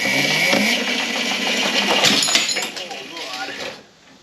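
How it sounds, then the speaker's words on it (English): A Razor Dirt Quad 500 electric quad, upgraded from 36 to 48 volts, spins its tires in a steady loud whir with chain rattle. A voice speaks over it before the noise drops away near the end. "Next thing to do is just see if the tires spin."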